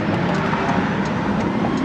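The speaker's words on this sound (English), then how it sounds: "That's wide open throttle." Arcimoto FUV electric three-wheeler at wide open throttle: a loud, steady broadband whir and road roar with a faint whine, heard from on board, brief and unbroken.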